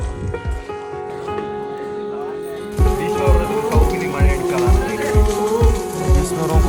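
Artificial rain falls on a film set while a generator vehicle runs nearby, making a steady wash of falling water. From the midpoint on it is broken by regular low thumping pulses, and no one talks.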